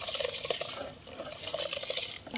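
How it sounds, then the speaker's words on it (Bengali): Rice goes into a pot of hot salted water on a home stove, giving a steady wet rustling and faint clinks and scraping that continue without a break at moderate volume. "আমাদের জলটা গরম হয়ে গেছে নুন দিয়ে দিলাম চালটা দিয়ে দিচ্ছি"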